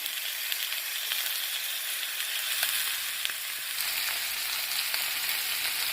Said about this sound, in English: we are going to let this go on a medium heat until our meat is brown